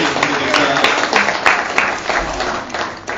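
Audience applause at a 2014 family reunion, a steady wash of many hands clapping close by, with voices mixed in throughout the roughly three seconds.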